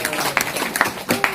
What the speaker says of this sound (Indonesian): Tepuk tangan sekali lagi untuk Bapak dan Ibu sekalian